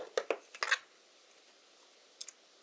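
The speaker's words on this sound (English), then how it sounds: "I just cut these ends off here" Scissors snip the ends off wire or cable during the installation of a GPS antenna on an XAircraft X650V-8 multirotor, a quick cluster of sharp close cuts followed by silence and then two more faint snips.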